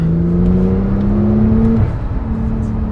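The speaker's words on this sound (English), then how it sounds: "Put the foot down again." A Porsche 911 Turbo S accelerating hard, its engine note climbing steadily in a loud, sustained rising drone, then briefly dropping at a gear change before pulling on again.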